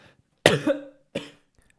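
A single loud, close cough followed by a shorter second cough, right into the microphone.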